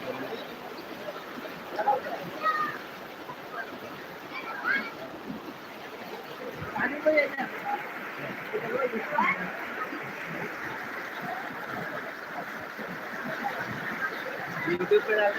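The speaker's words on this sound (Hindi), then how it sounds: "आप देख सकते हैं कि कितना तूफ़ानी पानी है" Rushing floodwater several feet deep flowing through a village, a moderate, continuous turbulent wash with splashing, heard under intermittent nearby voices.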